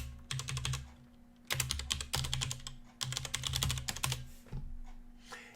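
Computer keyboard typing a Linux chmod command, with rapid close clicking keystrokes in several quick bursts separated by short pauses, over a faint steady hum.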